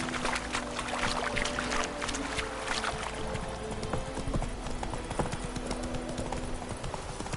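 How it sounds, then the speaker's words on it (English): Galloping horse in The Witcher 3, with steady hoofbeats clip-clopping close and loud throughout, layered over ambient game sound and a low hum, with no talking. "Run, Roach."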